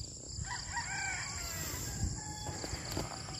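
A rooster crows faintly in the distance over soft outdoor background noise, with a few chickens clucking.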